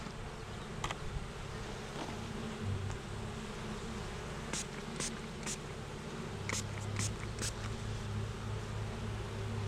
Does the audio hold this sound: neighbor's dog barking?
no